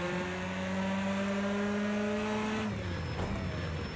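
An Audi S1 EKS RX rallycross car in Project Cars 2 revs hard with a rising, buzzing engine note, then drops off sharply as it shifts or lifts near the end, loud and close with no talking.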